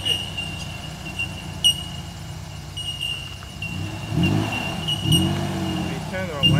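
A Mitsubishi Triton ute works on a steep dirt hill, its engine rumbling low and then revving harder near the end, with a thin steady whine above it and people talking over the engine.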